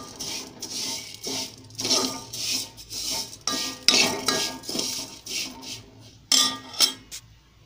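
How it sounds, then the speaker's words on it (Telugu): Vermicelli roasting in ghee is stirred in a pan, a metal spoon scraping and clinking against the pan in an irregular rhythm of close, distinct strokes. "నెయ్యి బౌల్లో కాస్త ఉంది కదా, అదే వేసి సేమియాలు వేయించుకోవాలి."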